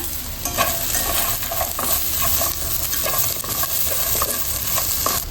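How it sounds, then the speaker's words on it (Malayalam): Pre-fried chicken stirred in a hot pan while making chicken fried rice: a loud, continuous sizzle with a constant hiss and regular scraping and clacking of a utensil against the pan. "ഇതിലേക്ക് നമുക്ക് നേരത്തെ ഫ്രൈ ചെയ്ത് വെച്ച ചിക്കൻ ഇട്ട് കൊടുക്കാം"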